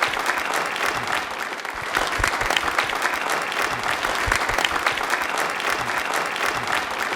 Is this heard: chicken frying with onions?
no